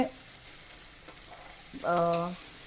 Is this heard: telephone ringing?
no